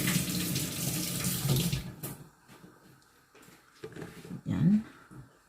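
Tap water runs into a sink for about two seconds as food is rinsed, then stops, followed by quieter clinks and handling sounds and a brief splash near the end, all close by in a home kitchen.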